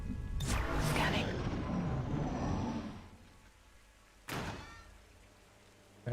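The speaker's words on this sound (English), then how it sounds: "I heard a door opening back there." A door swings open in XCOM 2, a broad whooshing, scraping burst in the first few seconds followed later by a second short thud, heard fairly close amid game ambience.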